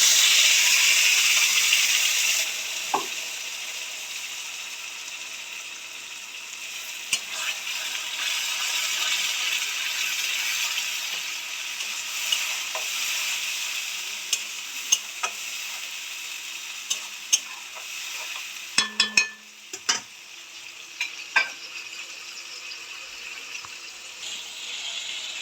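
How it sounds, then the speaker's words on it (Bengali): Ginger, garlic, green chili and onion paste frying in oil in a pan after fried onions, a steady loud hiss and sizzle that gradually settles, broken by scattered spoon clinks and scrapes. "এই যে রসুন, কাঁচা লঙ্কা, আদা, পেঁয়াজ একসাথে বাটা দিয়ে দিলাম।"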